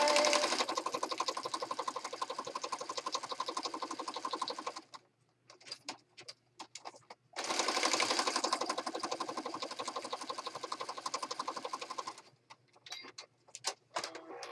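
A sewing machine stitches through paper scraps in long, rapid mechanical runs, with short pauses between them broken by scattered handling clicks. It is close and fairly quiet, with no talking.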